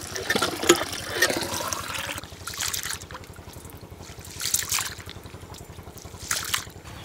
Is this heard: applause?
no